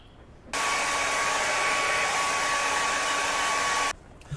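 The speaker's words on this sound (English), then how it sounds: "I'm going to speed this up a little bit with the hair dryer" A hair dryer blows with a steady, loud whoosh and a faint whine, switching on abruptly and cutting off a few seconds later.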